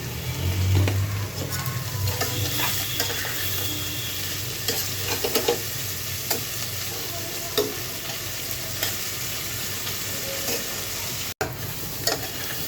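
Chopped onion fries steadily in a pan with salt added, a continuous close sizzle broken by repeated scraping stirs of a utensil throughout.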